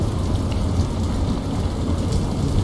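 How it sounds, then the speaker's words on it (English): Steady rain pattering in the video game Deadrop, a dense, continuous hiss of falling drops with a low rumbling undertone, fairly loud and unbroken throughout with no voices. "the rain is kind of dripping"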